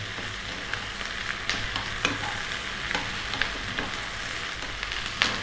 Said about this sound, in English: Again, lively heat, stirring often.